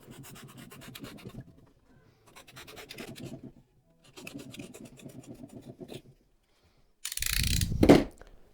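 Foam seat base cushion for a 1997-2001 Jeep Cherokee XJ being trimmed, a series of close scraping, rasping cutting strokes in bursts separated by pauses, ending with a louder rough burst.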